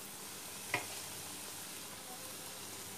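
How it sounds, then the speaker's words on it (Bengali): Noodle-coated potato and chicken balls fry in hot oil over medium heat, giving a faint, steady sizzle with one brief clatter near the start and no talking. "এখন আমি এটাকে তেলে ছেড়ে দেব"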